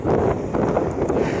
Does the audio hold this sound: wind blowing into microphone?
yes